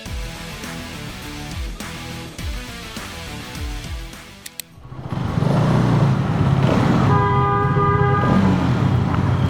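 A 250cc Hero Xtreme 250R motorcycle engine and exhaust rumbling under load, a steady close drone with rising and falling pitch, briefly dipping before a louder, rougher stretch of revving.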